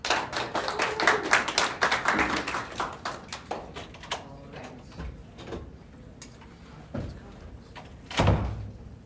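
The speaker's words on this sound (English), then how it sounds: "Applaud." A certamen competition audience gives a brief burst of applause, a ragged flurry of claps that quickly thins into scattered claps and a few isolated sharp knocks, with a voice in the room.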